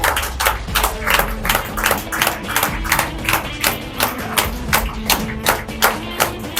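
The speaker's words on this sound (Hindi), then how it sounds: "एक बार जोरदार तालियों के साथ स्वागत करें" An audience claps to welcome a guest at a leadership development event, sharp rhythmic unison claps repeating steadily at a brisk pace over low thumps and background murmur.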